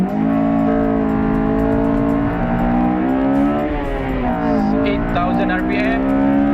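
A Honda Civic FD2R launches hard from a standstill, its engine note climbing steadily in loud, continuous acceleration with a brief shift dip midway, heard from inside the cabin.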